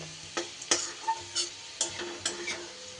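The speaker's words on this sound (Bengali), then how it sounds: "পেঁয়াজ রসুন আমার কিন্তু বেশ সুন্দর করে ভাজা হয়ে গেছে" Onion and garlic frying in a pan give light, scattered sizzles and sharp stirring clicks at irregular moments over a quiet background, with no voices.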